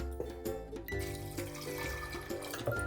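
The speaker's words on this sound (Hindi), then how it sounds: "अभी इसमें हम पानी ऐड कर देते हैं" Water pours steadily into a pressure cooker holding 200 grams of soaked peas, a continuous close splashing and trickling that runs for a few seconds with small surges.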